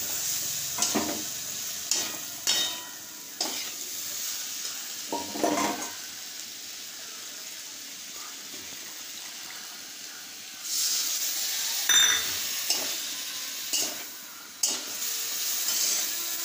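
Potatoes frying in a pan with a steady hiss and sizzle, broken by scraping stirs and louder bursts of spitting heat, fairly close.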